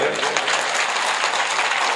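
Applause from the audience at a junior Islamic quiz during a school jalsa forms a dense, continuous patter of many hands clapping all through the moment.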